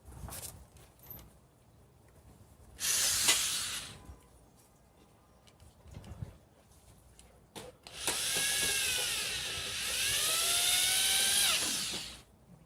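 A power drill with a Phillips head bit drives screws while building a high tunnel greenhouse: one short whirring burst, then a longer sustained run whose pitch bends as the screw seats, close and loud between quieter pauses.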